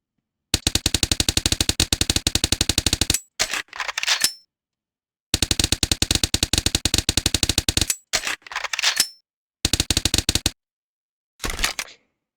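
MP5 submachine gun in Soldier of Fortune II, firing long sharp full-auto bursts separated by silences, followed each time by mechanical reload clicks and clatter.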